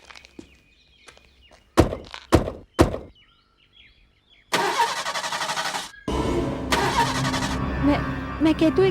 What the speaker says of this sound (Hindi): मैं जानती हूँ ये गाड़ी स्टार्ट नहीं होगी।